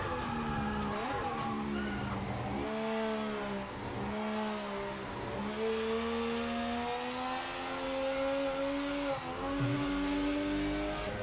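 A race car in the Project Motor Racing video game roars close by with a strained engine tone that rises and drops through gear changes over a steady background of other engines.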